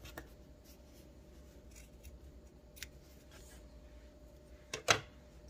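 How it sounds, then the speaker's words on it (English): Scissors snip off the extra crochet chains at the end of a row: a quiet faint background, then a sharp cluster of cutting clicks near the end, close and alone. "Extra chains at the end of your row, just cut them off."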